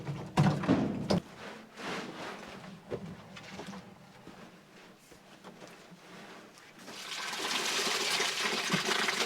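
Water pours and splashes into a wet, muddy footer hole dug for a lean-to shed, with scattered knocks early on and then a steadier rushing pour toward the end, close by.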